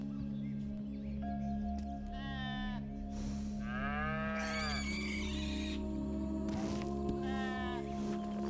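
An ox in the video game Red Dead Redemption 2, breed swapping between Devon and Angus, gives several drawn-out moos and bleating calls over a steady low ambient hum of the outdoor scene.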